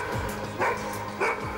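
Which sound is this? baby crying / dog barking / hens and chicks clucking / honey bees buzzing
dog barking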